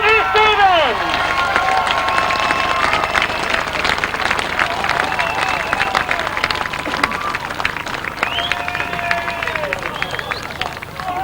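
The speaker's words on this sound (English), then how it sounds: "let's get them up here to receive your applause" Crowd applauding grasstrack riders at a 2002 prize-giving: sustained dense clapping and cheering from a sizeable outdoor audience, with voices mixed in throughout.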